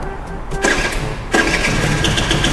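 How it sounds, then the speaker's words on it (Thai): A car engine cranks and catches after a push-button start, then runs at a steady idle with a second surge of revving, heard close up with background noise. "กดสตาร์ทเบิ้ลเบิ้ลด้วย"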